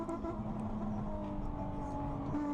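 Nissan 350Z with a manual gearbox holding a steady high-revving engine drone in traffic, a continuous loud buzzing tone with layered harmonics that stays flat throughout.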